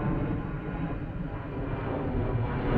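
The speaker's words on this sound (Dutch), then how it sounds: "Vliegtuig af en toe over." A fixed-wing airplane passes overhead at a motorhome campsite near Lyon, France, a steady, broad low rumble that holds throughout, slightly swelling toward the end.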